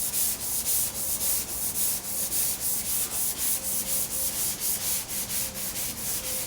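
Block sanding on Porsche 356 bodywork, steady back-and-forth rubbing strokes in a close, even rhythm, alone without voices.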